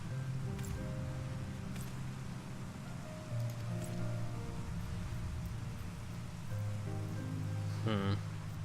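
Rain in the video game Final Fantasy XIV Heavensward, a steady soft hiss of falling drops that runs throughout under gentle sustained game music notes.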